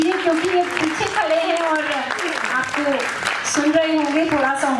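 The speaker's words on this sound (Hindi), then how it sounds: "जोरदार तालियां जरूर बजा दीजिए" Audience applause for a singer at a Bollywood musical night, a continuous bed of clapping running beneath a prominent voice talking over it.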